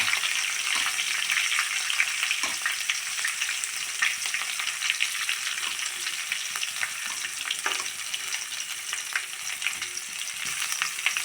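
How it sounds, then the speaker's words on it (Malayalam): Crushed shallots and dried red chillies frying in hot oil with mustard seeds and ginger-garlic paste for a mango curry, a continuous close sizzle with scattered crackles and occasional stirring scrapes. "ചുവന്നുള്ളിയും വറ്റൽമുളകൊക്കെ ഒന്ന് ഫ്രൈ ആവും വേണം"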